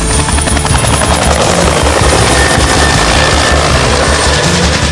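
A helicopter roars steadily overhead, its rotor chopping in a rapid, loud, continuous throb that fills the entire stretch.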